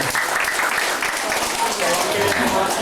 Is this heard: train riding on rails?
no